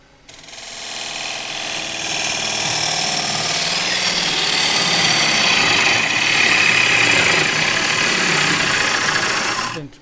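A wood lathe turns a green casuarina bowl while a 3/8 gouge cuts, giving a steady, fairly loud broadband whir and hiss that holds continuously for about nine seconds, with no talking.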